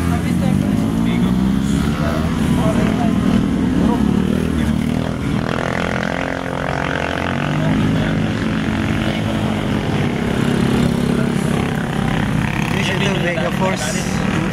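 A damaged Yamaha motorcycle engine runs at a constant, loud idle with a droning, propeller-like hum close by, while people talk over it throughout.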